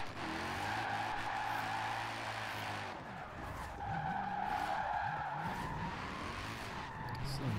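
A Mercedes C63 AMG drifting in Forza Horizon 4 sets its tires squealing in a long, steady skid over a wavering engine drone, loud and close, easing briefly before it picks up again.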